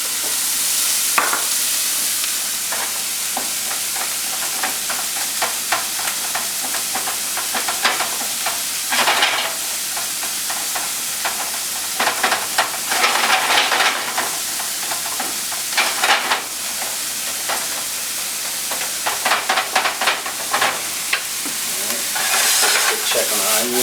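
Onions fry in a pan on the stove, a loud, close, steady sizzle with crackling bursts and scraping stirs scattered throughout, heard alone with no talk.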